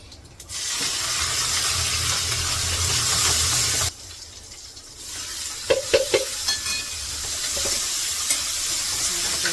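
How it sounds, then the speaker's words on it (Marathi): Mustard seeds crackle and sizzle in hot oil with garlic and chili in a home kitchen, a steady loud hiss broken by a pause, then sharp pops and stirring. "जरा मोहरी तडतडली देते"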